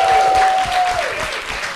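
A live audience applauds in the Q Bar in Guangzhou, a steady wash of clapping and crowd noise that stays fairly loud and even throughout.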